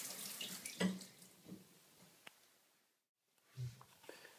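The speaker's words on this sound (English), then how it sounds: "Okay, turn the water back on. This toilet is filling up." A toilet tank refilling after its 2-inch flush valve was replaced, heard as a close rush of running water that drops out briefly and then resumes, fairly quiet and with no talk.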